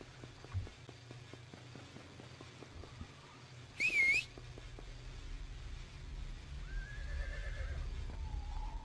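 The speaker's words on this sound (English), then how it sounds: "Ugh, horse." A horse in the action RPG Sacred gives one short, shrill whinny partway through, loud against quiet game ambience with faint hoof clops and soft background tones, and no voices.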